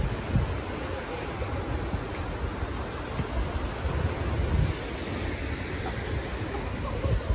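Ocean surf washing over tide pools outdoors, a steady broad roar of waves with wind buffeting the microphone, fairly faint and continuous with no talk.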